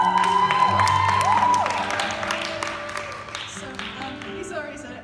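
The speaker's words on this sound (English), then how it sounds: "Let's cheer for Grace." A church congregation cheers and applauds a guest, loud clapping with whoops and shouts filling the room, a voice rising over the crowd before the noise gradually fades.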